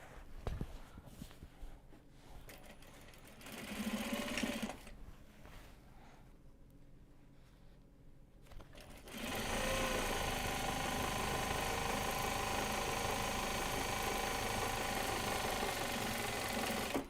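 Sewing machine stitching project bags: a few brief starts early on, then from about halfway a loud, steady continuous whir of fast stitching that runs to the end, close to the microphone.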